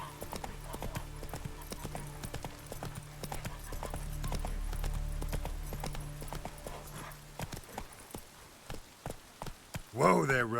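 Roach, the horse in The Witcher 3: Wild Hunt, gallops with rapid, rhythmic clip-clop hoofbeats that slow into scattered steps, ending in a loud snort or whinny.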